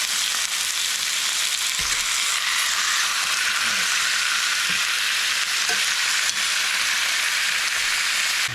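Cubes of beef roast brown in a Dutch oven over an outdoor fire pit, giving a constant close sizzle and frying hiss with a few faint knocks and stirring sounds mixed in.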